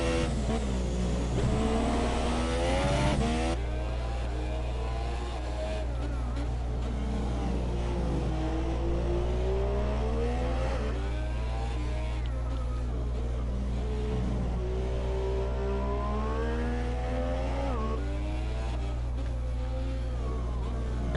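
An F1 car in the F1 2017 video game on the China circuit revs and shifts continuously, the engine pitch rising and falling through gears over a steady low hum, with commentary talk over it.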